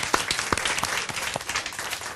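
Scattered applause from a lecture audience, with individual claps standing out in a loose, uneven patter that stays fairly steady for about two seconds.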